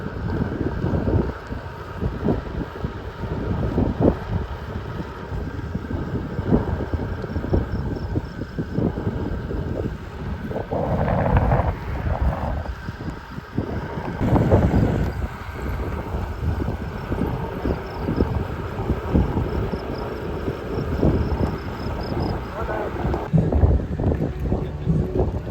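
Strong wind roars across the microphone while cycling east on Highway 24 between Logan and Osborne, a loud, steady rushing buffet with gusty swells throughout and occasional faint voice-like murmurs beneath.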